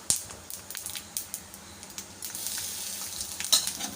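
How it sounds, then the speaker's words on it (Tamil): Curry leaves sizzle in hot oil in a tempering pan while being stirred: a close, crackling fry with quick spoon scrapes and clicks in an irregular rhythm. "கொஞ்சமாக கருவேப்பிலையும் சேர்த்தாச்சு சேர்த்துட்டு கலந்துக்கோங்க"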